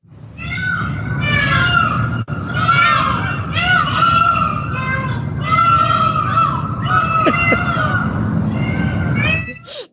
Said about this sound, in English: Those are peacocks.